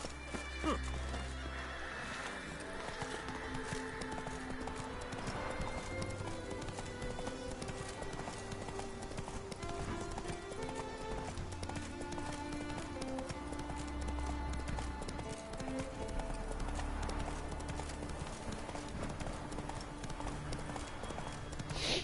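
The horse Roach clip-clops along in a video game with steady, rhythmic hoofbeats and an occasional whinny, set against a continuous layered game music score.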